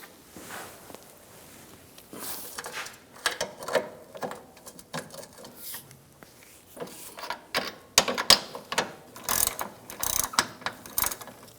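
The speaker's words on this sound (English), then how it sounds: "I'm going to use an 18mm wrench on the bolt, 18mm socket, loosen up the nut" An 18mm wrench and socket loosen a nut on the front lower control arm of a 2009-2013 BMW 328i xDrive, with rapid ratcheting clicks in irregular bursts, close and fairly loud, growing busier toward the end.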